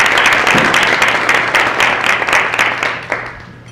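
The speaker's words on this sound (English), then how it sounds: "Can we have a round of applause for our sharers?" Audience applause after a family engagement talk, a dense wash of many hands clapping that stays loud and steady, then gradually thins and fades toward the end.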